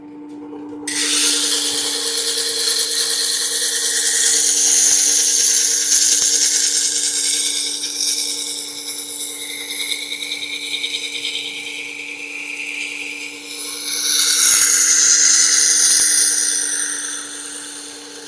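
A chisel ground on a powered sharpening system, a continuous high whirring grind over a steady motor hum, swelling and easing as the chisel is rotated against the wheel, close and loud with no talk.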